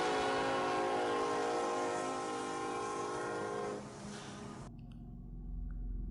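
A Union Pacific locomotive in a special paint scheme leads a train, its horn blaring in a loud sustained chord that cuts off abruptly, followed by rumbling wheels and engine noise.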